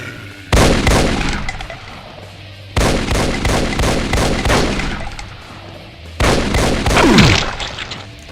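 Zombie sergeant in a Doom mod (Complex Clusterf__k) firing its weapon, three loud close bursts of shots separated by short pauses, each ringing out with a noisy tail.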